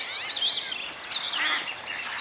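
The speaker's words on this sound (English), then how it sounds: "the ducks are absolutely going crazy mating" Shrill, high-pitched calls of ducks mating along a canal, overlapping in a busy, excited chorus close by, with no speech.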